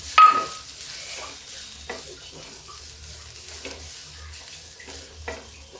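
Cauliflower filling for paratha fries in a pan, giving a low, steady sizzle with a few soft stirring scrapes and light clinks. The sound stays close and fairly quiet, with no talking over it.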